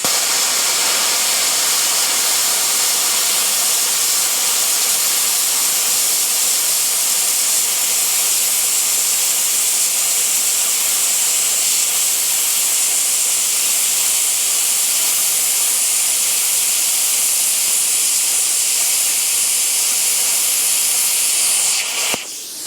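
A plasma cutter running on an Ecoflow Delta Pro power station slices through metal with a loud, continuous roaring hiss that holds steady for over twenty seconds before cutting off abruptly.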